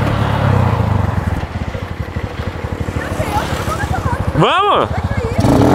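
A BMW R1200 motorcycle engine idles close by with a steady throbbing pulse, then a quick revving rise near the end, while people talk over it.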